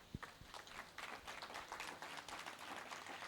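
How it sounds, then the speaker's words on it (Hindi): Scattered clapping from a crowd, a steady patter of hands that holds evenly throughout without any talking. "इनके लिए पहले तालियां बजाएं"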